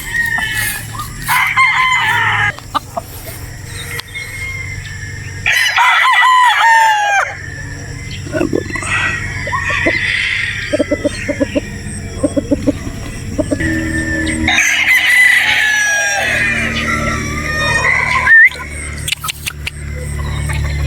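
Several gamefowl roosters crow repeatedly on a game farm in Batangas, Philippines, some close and loud, others farther off, with hens clucking in between and a busy farmyard background.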